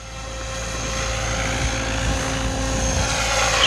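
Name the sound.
OMPHOBBY M5 RC helicopter flying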